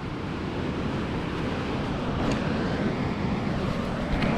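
Steady, dense roar of surf washing onto a beach at Pismo, continuous and fairly loud, with wind rushing over it throughout.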